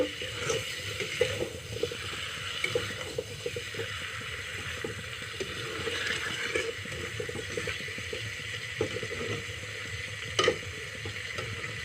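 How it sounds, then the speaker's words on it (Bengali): Chicken pieces being stirred in a pan with spices, giving a steady close sizzle with scraping and stirring knocks throughout, no voices. "মাংসটাকে ভালো করে নেড়ে দিব।"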